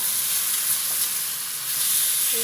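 Minced garlic sizzles in a pan still coated from frying tomatoes, giving a steady, close, bright hiss of hot oil with no talking.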